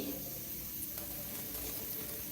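Pressure cooker steaming steadily on the stove while cooking rice, a continuous loud hiss filling the whole moment with no voices.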